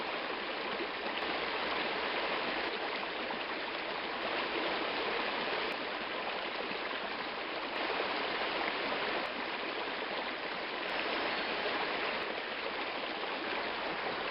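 A small river stream flows steadily and close by with a broadband rushing wash, alone and without talk, in a Québec river where gold is panned and metal-detected.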